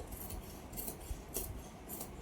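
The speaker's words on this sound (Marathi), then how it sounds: "अशा पद्धतीने इथे मी कटिंग करून घेते" Scissors cutting velvet blouse fabric with a lining, making a few faint, soft snips spaced about half a second apart against a quiet room background.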